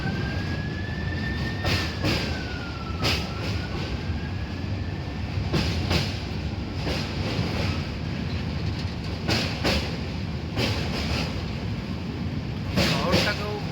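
Kolkata–Jammu Tawi express (13151) passenger train on the move, a continuous rumble with repeated clickety-clack bursts of wheels over rail joints and a faint rising whine early on, heard from aboard the train.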